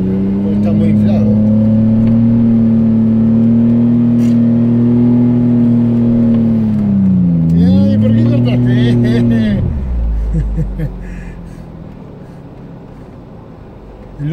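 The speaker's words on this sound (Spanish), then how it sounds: "Suena este V6" A V6 race car engine holds a loud, steady high drone close by, dips and rises again in pitch, then falls away, with people talking over it.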